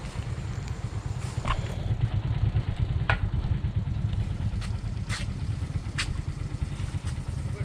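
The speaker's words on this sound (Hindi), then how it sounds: "बाइक पर नीचे उतर जाऊँ।" A motorcycle heads downhill on a northern mountain road trip toward Skardu, its engine a steady low rumble throughout, broken by scattered light clatters and rattles, with no talking.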